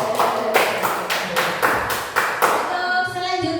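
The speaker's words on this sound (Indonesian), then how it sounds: "Tepuk tangan." A classroom group claps hands together in a steady, evenly spaced rhythm, about eight sharp unified claps close by that ring briefly, then give way to a fading tone at the end.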